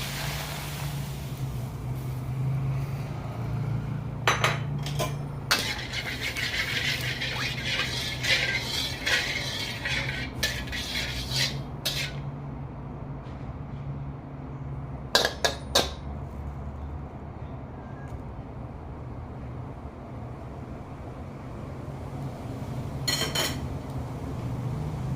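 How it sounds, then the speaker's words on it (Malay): Squid liquid is stirred in a cooking pan in a kitchen, with scattered scraping and clinking of a utensil against the pan over a steady low background hum, in irregular bursts with quieter gaps. "Kita gaul-gaulkan air ni guys."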